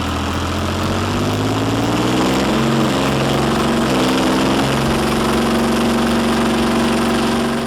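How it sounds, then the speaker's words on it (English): Leopard 2 tank V12 engine running just after startup, a loud, steady low rumble with a wavering droning pitch that settles into an even idle, close up with no talking. "The Leopard 2's V12 engine bursts to life. 12 cylinders roar in perfect harmony"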